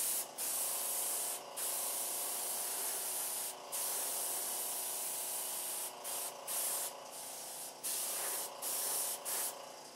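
Spray gun hissing clear coat onto a car body, a steady loud spray broken by several brief pauses between passes, with no talking.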